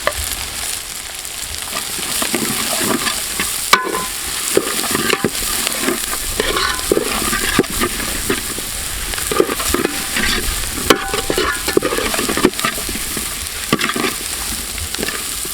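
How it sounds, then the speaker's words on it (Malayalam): Small shallots and onion sautéing in a pan for a beetroot chicken roast: a continuous loud sizzle with repeated scraping and stirring strokes, close up, with no talking. "ചെറിയുള്ളി ചെറുതായിട്ടൊന്ന് വഴറ്റി എടുത്തു കഴിഞ്ഞിട്ട് നമുക്ക് സബോളയും കൂടെ ഇതിലേക്ക് ആഡ് ചെയ്ത് കൊടുക്കാം"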